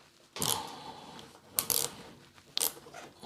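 Three short metallic ratcheting bursts as a wrench works small rusted bumper trim bolts back and forth on a Rolls-Royce Silver Spirit III, close up, with quiet pauses between each turn.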